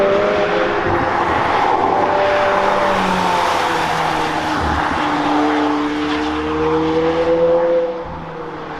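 McLaren supercar roaring past at speed on a mountain road at Chamrousse, a loud sustained engine note that sweeps down in pitch as it passes and then fades, with crowd noise underneath.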